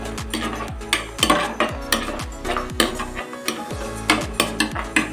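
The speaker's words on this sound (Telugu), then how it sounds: "ఇలా మంచిగా కలుపుకోవాలి." A spoon scrapes and knocks rhythmically through tomato rice in a metal pan, each stroke a sharp clatter repeating about twice a second, close and clear with a faint sizzle underneath.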